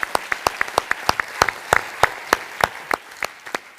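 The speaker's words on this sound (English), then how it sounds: "A round of applause for our speakers" Audience applause for conference speakers, a small scattering of distinct, fairly loud claps in an uneven rhythm, close and brief.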